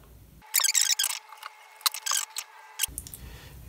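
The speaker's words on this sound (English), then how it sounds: "And then you just want to trim off the excess duct tape." Scissors snipping through excess duct tape while making a simple custom patch, several close, crisp cuts in two quick bursts with short pauses between them.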